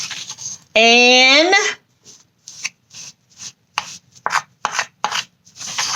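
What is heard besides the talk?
stirring food coloring into a mixture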